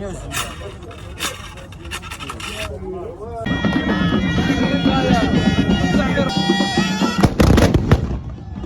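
Tbourida horsemen of a mountain troupe in Taounate province, Morocco, fire a musket volley at an outdoor heritage event: loud crowd voices and shouting, then a brief, powerful blast burst near the end.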